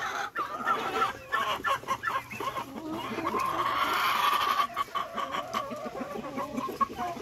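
A turkey hen sits on her nest of eggs and gives a steady run of low, throaty clucks and soft purring calls. The calls are close and continuous over a few seconds, with faint rustling around them.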